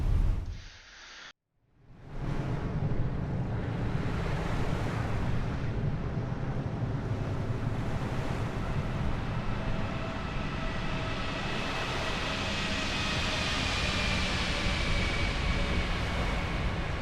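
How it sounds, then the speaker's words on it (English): Reverse thrust roars from a Fenix Airbus A321 landing in Microsoft Flight Simulator, a loud, sustained jet rumble that swells after a brief dropout and continues steadily without speech. "Let's put in a bit of reverse thrust."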